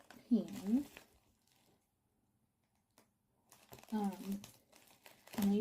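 Package from a Disney-themed shop being opened, with two bursts of crinkling and rustling packaging separated by a quiet gap, close and moderately faint, with some talking mixed in.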